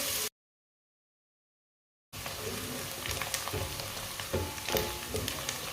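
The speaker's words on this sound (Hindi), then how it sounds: "एक बारीक कटा हुआ प्याज को हल्का सा ब्राउन कर लेंगे।" Finely chopped onion sizzles in oil as it browns lightly, a soft steady frying hiss with occasional stirring scrapes, briefly cut by a gap of silence.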